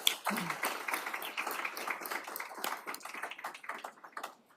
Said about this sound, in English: Let's give them a round of applause to getting to this place